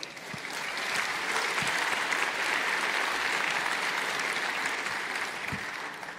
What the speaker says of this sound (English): so a special clap for them.